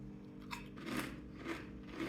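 Bundaberg ginger beer flavoured Kettle chips are crunched and chewed close up, with a few sharp crackling bites about half a second apart over quiet mouth noise and no talk.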